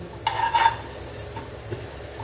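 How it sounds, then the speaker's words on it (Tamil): Grated carrot sautés in a pan on the stove, a soft low sizzle with a short clink and stir of a utensil near the start and a faint scrape later. "நல்லா அந்த ஈரப்பதம் போக இது கேரட் வந்து நல்லா வதங்கட்டும்"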